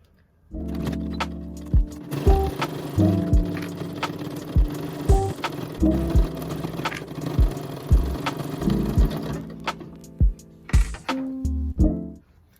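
A sewing machine stitches fabric for a ferret ramp tent, running in loud close bursts of rapid whirring with sharp clunks and stops between runs, no voices.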